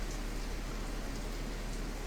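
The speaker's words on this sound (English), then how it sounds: "Raining like crazy here." Heavy rain pours during a morning thunderstorm as a dense, steady hiss, constant and fairly close, with no voices.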